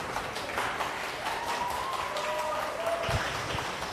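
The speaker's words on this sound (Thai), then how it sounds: "ขอเสียงปรบมือ" An audience claps steadily throughout, a dense patter of hands with a faint tone running through it.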